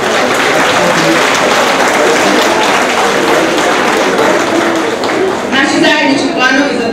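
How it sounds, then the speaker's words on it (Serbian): Audience applause at a preschool graduation ceremony in Bogatić in 2022: dense, steady clapping fills the whole stretch, with crowd voices mixed in underneath. "mislim da zaslužuje aplauz"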